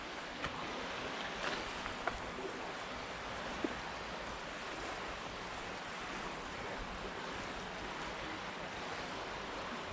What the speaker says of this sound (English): So there's the River Rother.